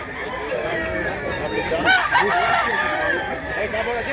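A rooster crows once, loud and close, over a busy background of clucking chickens and other fowl.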